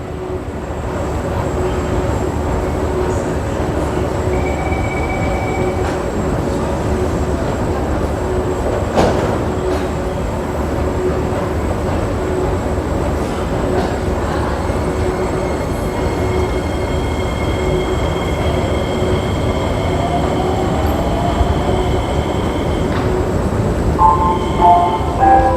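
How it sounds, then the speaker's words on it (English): A Singapore MRT red line train pulls out of the station with a steady rolling rumble, faint wheel squeals and tonal motor whines rising over about twenty-five seconds, heard up close amid station ambience. "We can see this train departing. Let's capture the way it leaves the station."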